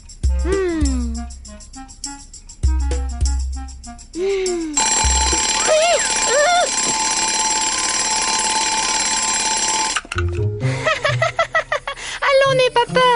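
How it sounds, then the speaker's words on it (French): A ringing alarm clock in a French Marsupilami cartoon blares steadily for about five seconds in the middle, with cartoon voices, squeaks and music before and after it. "C'est juste un réveil."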